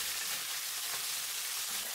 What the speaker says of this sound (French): Puis, je remue pendant 10 secondes.